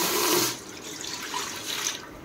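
Two glasses of water are poured into an idli steamer pot on a gas stove, a loud splashing gush at first that drops to a softer, trickling flow with brief surges, alone without talk.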